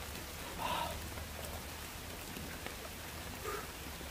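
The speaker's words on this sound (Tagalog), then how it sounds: "Kunti lang mga ulan." Light rain falls steadily and quietly outdoors, a soft, even patter with a few faint scattered sounds and no talking.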